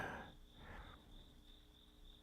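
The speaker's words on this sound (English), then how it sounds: "listening to the rain and the crickets." Faint crickets chirp in a steady pulsing rhythm against a quiet, soft background hiss of rain at night, with a brief rustle near the start.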